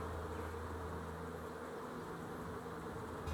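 Honeybees swarm around backyard beehives in early spring, and their dense buzzing hum stays steady and fills the whole stretch.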